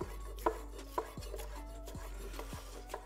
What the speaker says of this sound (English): I will have to chop them first